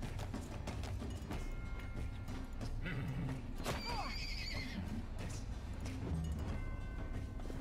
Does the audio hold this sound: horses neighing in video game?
yes